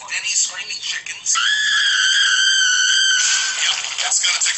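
Screaming chickens from a Denny's TV commercial let out one long, shrill, sustained scream near the middle, loud and close, with brief voice-like sounds before and after.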